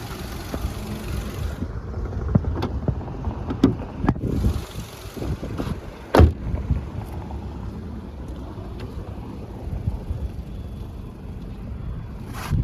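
The 1.6 MPI 75 kW petrol engine of a Volkswagen Golf 5 Plus idles with a steady low rumble, accompanied by a few sharp clicks and knocks and one brief louder bump, with no talking.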